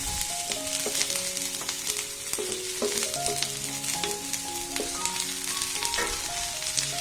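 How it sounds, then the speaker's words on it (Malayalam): Sliced onions frying in a pan for the masala filling of a broken-wheat masala dosa, giving a steady, close sizzle throughout with music playing underneath. "സവാള ഇട്ട് കൊടുക്കാം."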